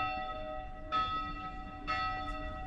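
Church bells ring outdoors near the Canal du Loup, two distant, resonant strikes about a second apart, each leaving a lingering hum over quiet background.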